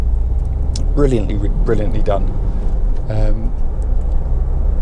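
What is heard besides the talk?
Honda CR-V 1.6 i-DTEC car driving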